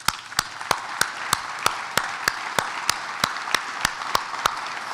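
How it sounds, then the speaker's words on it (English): Applause at a senator's portrait unveiling ceremony, a steady bed of audience clapping punctuated by a sharp, evenly spaced loud clap roughly three times per second, continuing without speech. "we give a hearty round of applause for Dean Larson"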